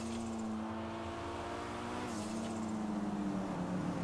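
A car engine in GTA 5 Online hums steadily at a low, even pitch, close and moderately loud, with slight changes in revs and no talk over it.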